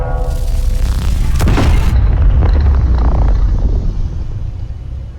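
A broadside weapon fires in the Space Engineers video game: a loud, heavy boom over a continuous low rumble, with a sharp crack near the middle before the blast fades into a decaying roar.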